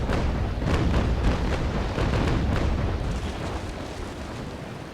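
Grape shot fired from smoothbore naval cannons in the Naval Action game, a dense rumbling barrage of overlapping booms and bursts that rolls on for several seconds before slowly tapering, with no voices.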